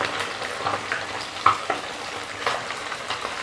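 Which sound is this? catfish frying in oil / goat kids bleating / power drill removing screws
catfish frying in oil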